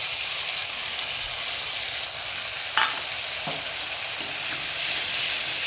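Potatoes seasoned with salt and turmeric being sautéed with ginger and cumin paste: a loud, dense, continuous sizzle with a few faint stirring scrapes close by, and no voices.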